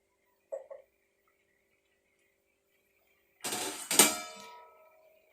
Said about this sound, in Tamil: ஒரு மூடி போட்டு